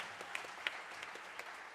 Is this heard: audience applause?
yes